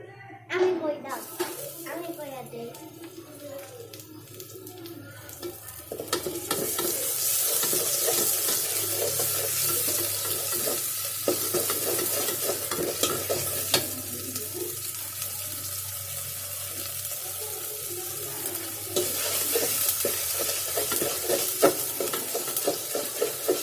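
Onion with ginger and salt sautéing in a pan, a steady broad hiss and sizzle with scraping stirs that grows louder after the first few seconds, with a voice talking over it.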